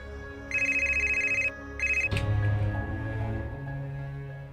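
A telephone rings at home in two repeated electronic bursts, clear and fairly close, followed by a thump and low background hum with no talk.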